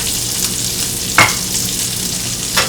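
Bacon, jalapeños and garlic fry in a pan with a steady close sizzle, broken by two brief sharp clinks or stirs.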